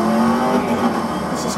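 A Bugatti Veyron idles in the video game Need for Speed Most Wanted, a loud, close, steady engine drone with a voice talking over it.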